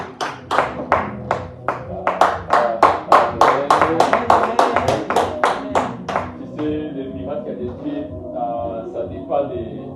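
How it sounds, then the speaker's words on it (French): A church congregation claps loudly in a steady, rhythmic beat for about six seconds, then the clapping stops and voices carry on over a faint backdrop. "Alors que je l'appellerai, on va acclamer très fort."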